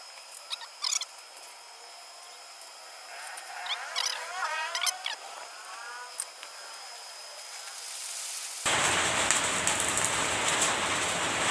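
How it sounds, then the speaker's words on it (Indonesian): Rain begins falling outdoors during a rice-thresher build, arriving abruptly as a loud, dense hiss of downpour after a quieter stretch of light chirps and small rustles. "walah hujan sobatku."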